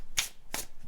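A deck of tarot cards is shuffled in three quick, crisp riffling bursts, close and fairly faint, with no voice.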